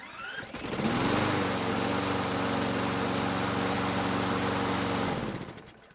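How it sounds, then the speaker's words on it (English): A Troy-Bilt lawn mower engine cranks and catches after a key-start repair, then runs at a steady drone for several seconds before cutting off, loud and close with no talking. "the starter worked this time and the engine started and ran without any issues"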